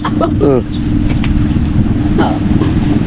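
Vehicle engine idling steadily and loud nearby, a constant low rumble throughout, with people talking over it.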